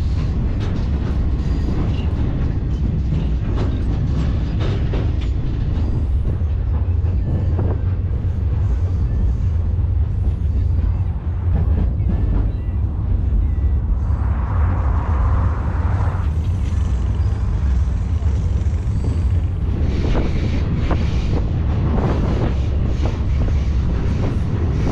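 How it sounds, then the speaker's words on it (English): Constant heavy rumble and rattling of a slow, heavily loaded freight train with a single locomotive grinding uphill in Morocco, heard from aboard the cars with steady wind buffeting the microphone and no talking. "It's a very heavy train and there is only one log pulling."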